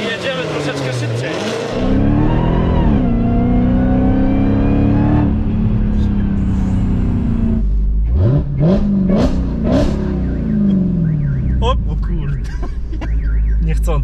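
Dodge Challenger Hellcat Redeye with 808 HP accelerating hard on a Warsaw street with passengers aboard, a loud engine roar rising in pitch through gear changes, with people talking and reacting over it.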